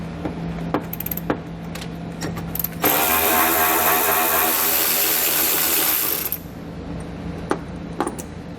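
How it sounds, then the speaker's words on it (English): A hand ratchet fitted with a 10mm socket backs out tie-down hook bolts on a 2019 Buick Enclave with quick, close clicking bursts. A louder whirring power-tool run takes over in the middle, then the clicking resumes. "we want to grab a 10mm socket and we'll pull the bolts out, holding them in place"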